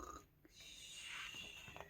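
A storyteller's voice imitates a big snore while reading the children's book Bear Snores On aloud: a short, breathy, rasping snort drawn out over a moment, quiet and close.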